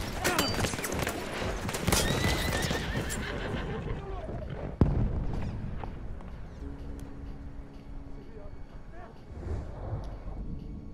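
A horse whinnies loudly over galloping hooves and chaotic battle noise in the video game Battlefield 1, then the scene calms to a softer rumble with a single sharp crack midway.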